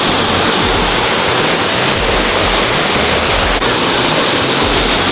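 Stewart Cascades waterfall on a Utah hike roars as a loud, steady, broadband rush of falling water, close and constant throughout with no voices heard.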